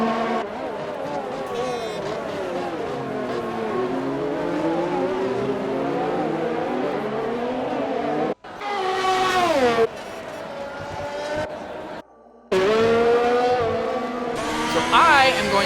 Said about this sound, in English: just let you hear the engine for this entire lap around Montreal